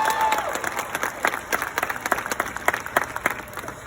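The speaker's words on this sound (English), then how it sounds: "So give yourselves a round of applause" Members of the Southeast High School class of 2021 applaud at their graduation ceremony, a steady patter of many hands heard from a distance, soft and continuous.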